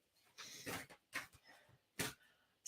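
A dog pants quietly in a few short breathy bursts, close but faint, with no talking.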